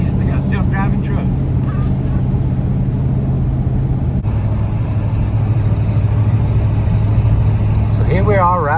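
A 1990 Ford truck's engine drones steadily while cruising down a highway, a constant low rumble with road noise throughout, heard from inside the cab under a man's speech.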